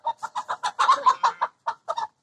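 A pet chicken clucks rapidly while being caught, a quick run of about a dozen short, agitated clucks at close range with brief pauses near the end.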